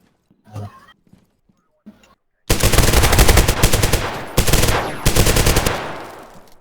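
Gunfire in the Zero Hour shooter game: after a few quiet moments and faint voice sounds, loud rapid automatic bursts break out and run on in close repeated volleys.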